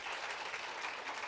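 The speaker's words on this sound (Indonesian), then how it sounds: "Kita tepuk tangan untuk Pak Mokhtar ya." A brief, steady wash of audience applause at a university law faculty's opening ceremony, heard as a continuous blur of many hands, fairly soft and distant.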